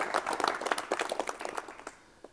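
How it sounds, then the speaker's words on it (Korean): An audience claps to welcome a guest onto a stage, a fairly faint, brief patter of hands that thins out and fades within a couple of seconds. "박수로 맞이해 주십시오"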